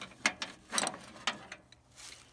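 A ratchet spins a nut tight onto the starter of a 1965 Jeep CJ5, giving a few short, close clicking bursts with brief pauses between them, no talk.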